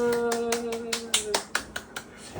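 Hands clap for a 17-month-old baby at home, about a dozen sharp, close claps in a quick uneven rhythm, starting under a lingering sung or spoken voice and then ringing out clearly alone.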